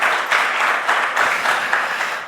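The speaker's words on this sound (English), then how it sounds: "A round of applause to our panel, please." Audience applause for a panel at the close of a sector conference session: a steady, moderately loud patter of many hands clapping throughout, with no speech over it.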